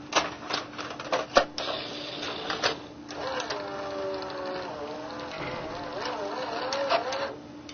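A VCR mechanism loading a tape, seen from the underside: rapid clicking and clunking of gears and levers, then a steady motor whine with shifting pitch as the tape is threaded, close-up and mechanical.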